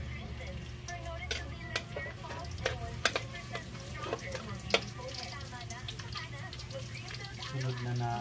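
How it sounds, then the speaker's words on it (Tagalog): Garlic and onion frying in hot cooking oil, a steady sizzle with scattered clicks and spoon taps in a kitchen, with a voice talking over it. "Mainit na yung mantika, ilalagay na natin garlic."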